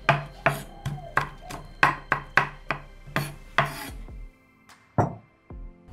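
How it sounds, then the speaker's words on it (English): Unpeeled garlic gets mashed and roughly chopped with a knife on a cutting board, about a dozen sharp, close chopping knocks in an uneven rhythm, then a pause and a few final cuts. "No need to peel the garlic, just mash it and roughly cut it."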